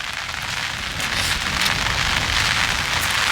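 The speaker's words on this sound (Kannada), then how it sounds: "ಮಳೆ ಹರಿತಾನೆ ಇದೆ." Heavy rain pours steadily onto a forest near the Ghataprabha River, a dense, continuous hiss of drops on leaves and ground that is loud and unbroken, with no voices.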